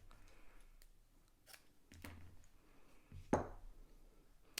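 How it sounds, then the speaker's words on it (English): Scissors snip the ends of a ribbon bow, a few quiet, close cuts spaced out over a faint, otherwise still background. "And you can just trim the ends."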